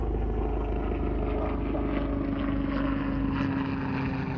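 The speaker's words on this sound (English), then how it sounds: "just like the plane flying above" A propeller plane passes overhead, its steady droning engine hum filling the background continuously at moderate loudness, with no talking.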